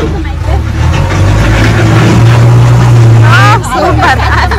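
A vehicle engine idles nearby at a family head-shaving ceremony, a loud, steady low drone running under lively crowd chatter and voices throughout.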